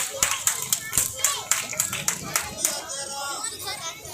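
An audience at a memorial and journalist award ceremony claps to welcome a guest, loud, close, rhythmic bursts of applause mixed with crowd chatter and a voice over the sound.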